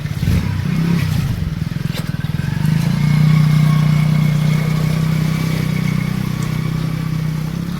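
A motorbike engine runs steadily close by as it rides through a flooded road in Palghar during heavy rain, its mid-pitched drone rising and holding throughout with no talk.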